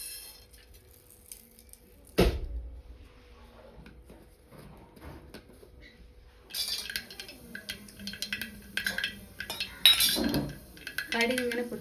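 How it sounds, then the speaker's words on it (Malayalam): Mustard seeds splutter in hot oil in a kitchen pan, starting with a few scattered ticks and a clank, then bursting into dense, crackling pops that continue steadily. "കടുക് ഇങ്ങനെ പൊട്ടിക്കോട്ടേ ഇരിക്കാൻ കേട്ടോ"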